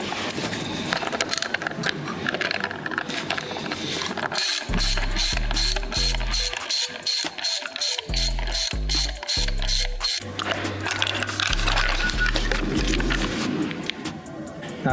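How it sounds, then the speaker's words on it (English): A ratchet driver with a T20 Torx bit backs out steering wheel bolts on a 2016-2023 Camaro, giving loud, close, rapid clicking bursts in several runs with brief gaps between them. "we're going to use this T20 Torx to remove these bolts over here"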